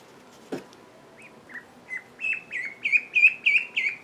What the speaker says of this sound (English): Oh, I hear you, little duckling.